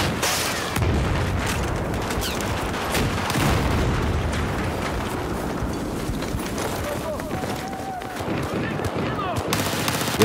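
Rapid MP7 submachine gun fire in the Battlefield video game crackles in close, dense bursts with booming explosions and battle noise all around. A voice talks over the constant gunfire.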